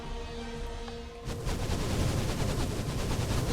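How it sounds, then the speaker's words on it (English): Anti-aircraft guns firing in the Minecraft Movecraft game: a quiet hum, then a sudden loud start into dense, continuous rapid gunfire that keeps going to the end, with no pauses. "I'm tracking it with my guns, continuously firing at it as it goes down"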